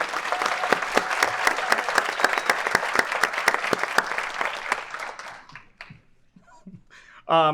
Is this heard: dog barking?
no